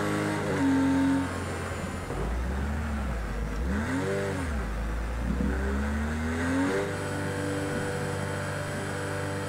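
A GT4 race car engine in Project CARS 2 pulls out of the pit lane at Zolder: a loud, close drone with rising and falling revs, several gear-change dips and swells, and no talk.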